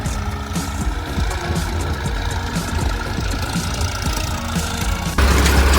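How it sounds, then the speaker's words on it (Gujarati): A loud, steady engine rumble of a tractor running close by during wheat sowing in a field, continuous low chugging that grows slightly louder near the end. "આપણા ક્ષેત્રમાં ટ્રેક્ટર આવી ગયું છે"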